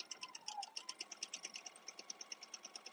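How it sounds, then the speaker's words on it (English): A sewing machine stitches quilt pieces with a scant quarter inch seam, a fast, even run of soft mechanical ticks repeating steadily at close range and low volume. "Now I'm going to go and sew these little guys."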